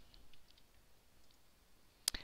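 A computer mouse clicks during a typing-course walkthrough, with two or three quick, sharp clicks near the end after a quiet stretch of faint room tone.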